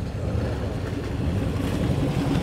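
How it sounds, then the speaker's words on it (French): Porsche 718 RSK sliding on ice: a steady, muffled low engine rumble at moderate distance, continuous for a couple of seconds with slight rising intensity. "Magnifique Porsche 718 RSK."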